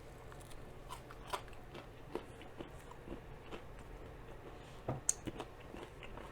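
Crunchy restaurant food bitten and chewed close to the mouth during a mukbang meal, with a few sharp crisp crunches standing out over a quiet, steady background.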